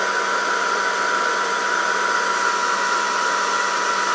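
An air curler hair styler blows a steady, even rush of air on its cool heat setting, a constant close whirring hiss with no variation and no voices.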